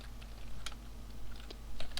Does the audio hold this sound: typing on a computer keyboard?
yes